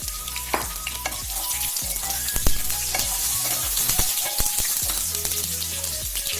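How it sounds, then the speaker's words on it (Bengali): Cauliflower florets frying in about four tablespoons of mustard oil, a dense crackling sizzle with spatters and pops throughout, loud and close with no speech. "সর্ষের তেল দিয়ে দিয়েছি এখানে প্রায় 4 টেবিল চামচ, কারণ আমি ফুলকপিটা ভেজে নেব।"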